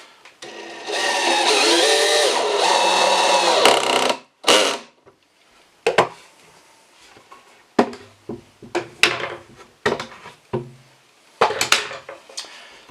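A power drill whirs steadily for a few seconds while building a wooden chair, then cuts off, followed by scattered clicks, taps and knocks nearby.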